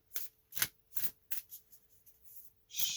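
An oracle card deck is shuffled by hand in a quiet room, giving a run of crisp, riffling bursts in an uneven rhythm, close and fairly soft, with no talking.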